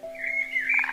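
A frog croaks near a pond, a single close, strongly voiced call that rises into a short rapid pulsing trill, heard alone over quiet background.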